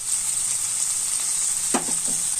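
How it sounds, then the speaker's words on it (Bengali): Raw mango pieces tossed with turmeric in a pan over low heat give a steady soft sizzle, with a brief cluster of stirring scrapes near the end; no talking. "হলুদ দিয়ে আবারও ভালোভাবে একটু নেড়ে চেড়ে নিচ্ছি"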